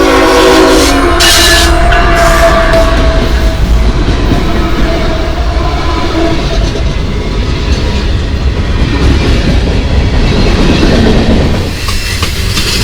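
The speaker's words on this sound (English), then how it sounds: "Let's take a look at this train." A train rumbles past loudly and continuously, with wheels clattering on the rails and a horn sounding early on.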